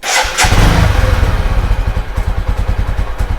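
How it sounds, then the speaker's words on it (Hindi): A motorcycle engine cranks and catches during a mileage adjustment, then settles into a rapid, steady thumping idle, loud and close with no talk. "बाइक स्टार्ट हो गया"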